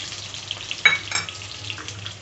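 Small onions, garlic and red chillies sizzle in a pan while being stirred, with a steady frying hiss broken by a couple of louder scraping stirs in the middle.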